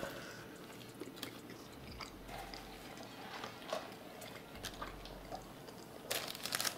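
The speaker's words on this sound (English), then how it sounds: "We're not having the chewing sounds." Someone chews a bite of food topped with chips, making loud, close crunches and wet chewing sounds in an irregular rhythm with no talk.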